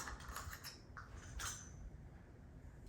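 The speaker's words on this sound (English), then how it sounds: "you just unscrew that part right there" Top piece of a Mainstays 6-foot combo floor lamp being unscrewed, giving faint, close creaks and small metallic scraping clicks in a few short bursts, with no talking.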